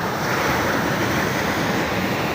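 Sea waves washing in at a seashore, a continuous loud roar of surf with wind buffeting the microphone and no talk.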